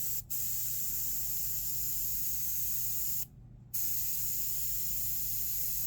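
An Iwata airbrush sprays paint in a steady, close hiss that runs almost the whole time, stopping twice, once briefly and once for about half a second, while a low hum sits underneath.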